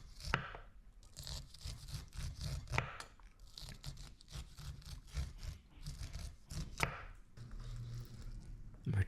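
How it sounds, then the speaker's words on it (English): A knife cuts cooled corn kernels off the cob in quick, repeated crunchy strokes, close and fairly quiet, with a steady uneven rhythm of slicing and scraping. "we'll just cut it right off the cob"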